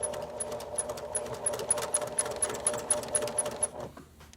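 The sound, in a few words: sewing machine stitching the seam of a fabric mask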